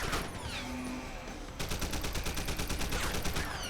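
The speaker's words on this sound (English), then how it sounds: "I'm just gonna shoot that" Rapid gunfire in Deus Ex: Human Revolution, a dense burst of shots after a brief lull, then a steady string of sharp repeated cracks continuing to the end, loud and close with no talk.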